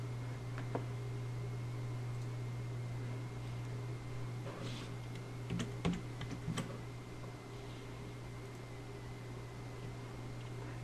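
Sparse keyboard clicks while a name is typed on a computer keyboard, a few scattered keystrokes near the middle over a steady electrical hum and fan-like background noise.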